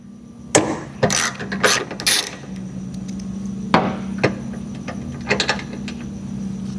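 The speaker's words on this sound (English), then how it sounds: "We're going to remove the flap, take out the 10mm bolt." Ratchet clicking out a 10mm bolt on a 2025 Toyota 4Runner, several quick bursts of sharp pawl ticks with a steady low hum beneath and brief pauses between turns.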